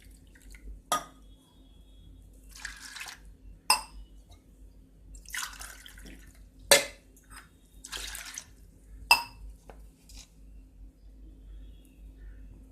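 Water for cooking rice poured into a pot, heard as intermittent splashes and drips with a few sharper clanks of a glass or vessel against metal, close and moderately quiet, no voices.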